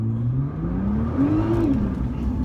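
Nissan GT-R pulling hard from a launch-control start, its engine note climbing steadily and continuously through a close, loud acceleration run with no talk over it.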